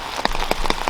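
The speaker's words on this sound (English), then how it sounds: "It is really raining like terrible" Steady heavy rainfall drums through a forest, a loud continuous hiss broken by frequent close, crisp drop impacts landing in an uneven rhythm.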